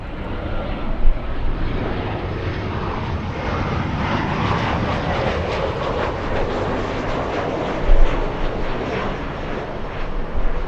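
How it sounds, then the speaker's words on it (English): An Embraer E175 airliner at Los Angeles LAX roars with a steady, loud jet engine rumble in gusty wind, with a few louder bumps along the way. "Alright, we have the E175."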